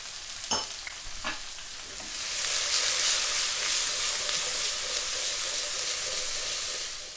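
Diced onions dropped into hot oil with a cinnamon stick, cardamom, cloves, garlic and ginger for a restaurant-style chicken tikka biryani; a few close clinks give way to a loud, steady frying sizzle that fills the rest.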